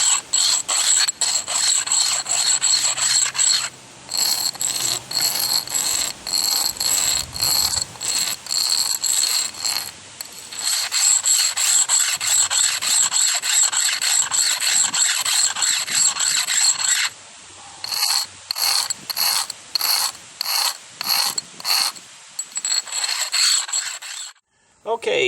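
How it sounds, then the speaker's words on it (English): A homemade steel fire striker being rubbed against concrete to smooth its edges, heard as long runs of harsh, rhythmic scraping strokes, close and loud, broken by short pauses. "what you're going to do is to rub the edges on the concrete to make it smooth"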